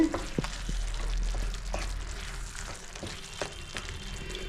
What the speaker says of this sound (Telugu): మసాలా వేసుకుని ఇటు తిప్పేసి